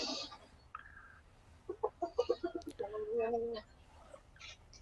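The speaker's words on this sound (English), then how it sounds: "Look at that big rooster. He's actually full grown." A big, full-grown rooster crows and clucks at a distance, a rapid run of pulsed calls rising to a drawn-out cry, with faint background noise around it.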